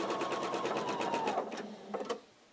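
A sewing machine chain piecing quilt pieces runs in a fast, even rhythmic whir of stitches, then slows and stops with a few last separate needle strokes, close and fairly quiet.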